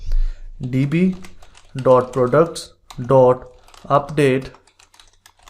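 Light clicking on a computer keyboard runs beneath a person's steady lecture-style speech, the taps soft and scattered between phrases.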